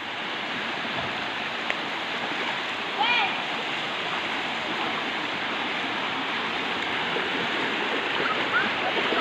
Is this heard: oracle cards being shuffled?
no